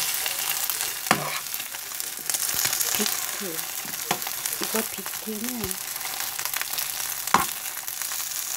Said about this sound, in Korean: 이거 비트 계란 꼬치 볶음밥을 만들게요